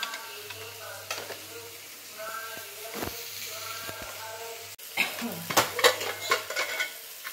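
Spice paste sizzles and fries steadily in a pan for a suran (elephant foot yam) curry, with a spoon stirring and scraping now and then, growing louder and busier toward the end.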